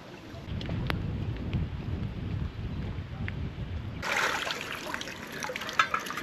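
Sea water sloshing and splashing around legs while wading with a metal detector near the shore, a steady low watery churn that turns brighter and hissier partway through, with a few small splashes.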